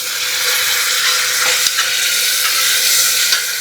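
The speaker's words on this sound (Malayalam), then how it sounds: "അപ്പോൾ ഇത്തിരി വെള്ളം ചേർക്കുന്നു." Onion-tomato masala for cooker chicken sizzles and hisses steadily as water goes in, a close, even frying sound with a few faint clinks from the pan.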